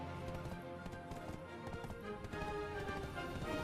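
Rhythmic clip-clop of horse hooves trotting steadily in Black Desert Online, layered over a busy, dense game soundtrack with no one speaking.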